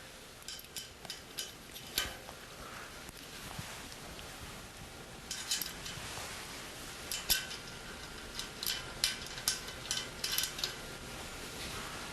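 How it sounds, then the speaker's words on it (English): Metal ratcheting clicks and light tool clinks from a wrench tightening a nut and washer onto a bolt while installing a Perma Rail mounting system, heard as scattered close ticks in short bursts over a quiet background. "tighten that up with a wrench"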